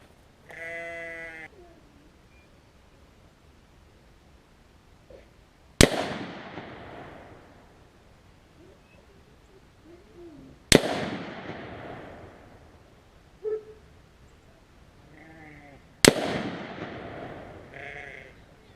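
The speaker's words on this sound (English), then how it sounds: "those are 3 shots" Three loud rifle shots, spaced about five seconds apart, crack sharply and echo while a PINTY 2.5-10x40 tactical scope with laser is tested outdoors; sheep bleat in the background between shots.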